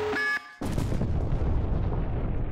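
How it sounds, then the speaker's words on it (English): A bomb blast in the Henry Stickmin video game: a sudden loud, close boom that breaks off a short tonal game sound and then rolls on as dense, rumbling debris noise to the end. "Dropped the bomb on him."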